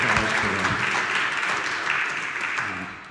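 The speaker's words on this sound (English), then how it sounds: "Big round of applause" A round of applause from a gathered crowd at a Clan Logan event, sustained clapping that gradually tapers toward the end, with no voices over it.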